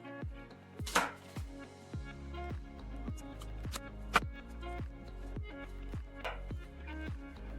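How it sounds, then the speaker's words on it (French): A knife cuts an apple into small quarters, producing a quick, fairly regular series of crisp chopping taps on a board, close and moderately loud, with a few sharper strikes. "la pomme, on la coupe en petits quartiers"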